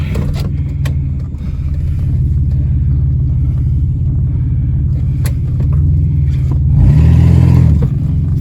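The engine of a 1998 Oldsmobile 88 with a plugged catalytic converter runs at a steady, close, loud idle-like rumble, then swells briefly louder near the end as if revved.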